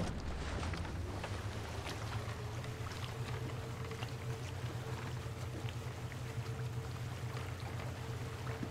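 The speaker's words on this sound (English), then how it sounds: "The boat is probably very loud" A boat's engine in the video game The Witness hums low and steady while water rushes and splashes against the hull, a constant loud churning with wind over it.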